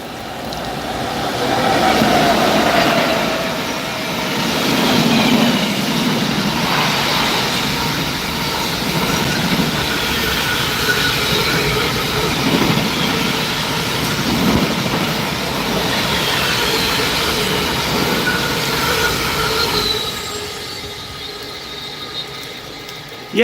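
A freight train with Class 90 locomotives passes at Rugeley Trent Valley in a train simulator, loud rumbling wagons and rhythmic wheel clatter sustained for over twenty seconds before fading slightly at the end.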